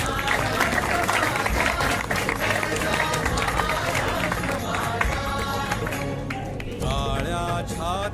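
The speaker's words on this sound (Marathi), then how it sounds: "टाळ्यांचा आवाज" An audience applauds at a felicitation ceremony where a shawl is presented, with dense, continuous clapping and crowd noise that later thins under voices and tonal sound.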